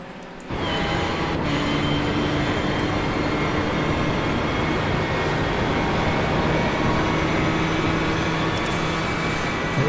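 GTE race cars lapping Le Mans in a racing game, a dense, steady engine drone with sustained tonal whine that starts abruptly and continues loud and unbroken throughout.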